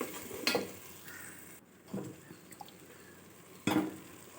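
Soft scraping and stirring of a ground paste sautéing in a pan for Tamil fish curry, with a few louder utensil knocks and a gentle sizzle underneath, fairly quiet and unhurried.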